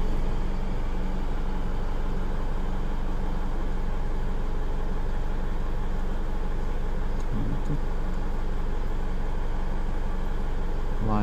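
A Holden Colorado engine with a U2104-00 fault drones inside the vehicle as it accelerates, giving a steady, close, dense hum with little change in pitch.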